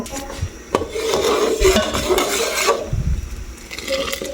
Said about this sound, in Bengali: গুঁড়ো দুধ অ্যাড করলাম যাতে লেগে না যায় তো একটু সাথে সাথে নেড়ে দিলাম